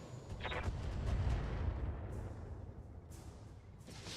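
Missile barrage launched at several targets in the BattleTech video game, a dense rumbling roll of launches and impacts that swells loud through the first two seconds, then settles into a lower continuous roar with a few sharper bursts.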